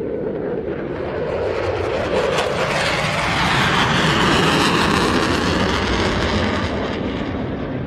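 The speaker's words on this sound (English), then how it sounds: "Now watch again, reheat engaged." Jet aircraft making a fast pass at an air show in Ayr with reheat engaged, a loud, broad, tearing roar that builds to a peak midway and stays intense as it sweeps past, with no talking.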